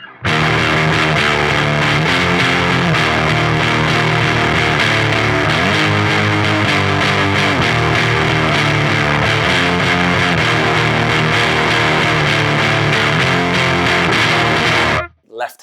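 Distorted electric guitar through a Holy Island Audio Tides version 2 pedal with extra boost and no reverb, playing dense, loud, sustained power chords continuously until an abrupt stop.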